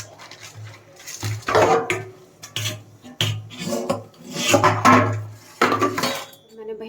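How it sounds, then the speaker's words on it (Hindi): Dishes, pots and utensils clink and scrape in a home kitchen sink as they are washed, in irregular bursts of clatter, with a voice speaking at points. "और बर्तन साफ़ कर दिए"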